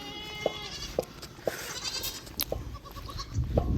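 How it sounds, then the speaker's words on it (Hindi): Young goat kids bleating near a Narmada riverside ghat, several short cries spaced about every half second, close and moderately loud, with outdoor rumble and background noise swelling toward the end. "यहाँ पे हर किसी के बकरी के बच्चे हैं, सारे लोगों के पास है।"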